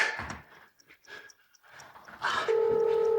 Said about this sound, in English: Come on, Evie, pick up the phone, please.